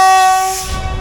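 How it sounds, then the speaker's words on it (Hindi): A GU20 locomotive sounds a loud, steady departure whistle as it leaves a station on a Pakistani railway, a single sustained tone heard close up that fades near the end. "डिपार्चर वेसल आपने सुना और गार्ड साहब ने भी परवाना जारी कर दिया अपने वेसल से कि अब आप जा सकते हैं।"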